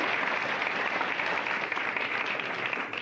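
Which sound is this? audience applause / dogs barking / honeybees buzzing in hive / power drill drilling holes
audience applause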